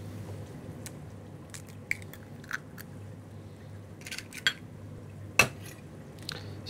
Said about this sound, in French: Donc on casse les œufs.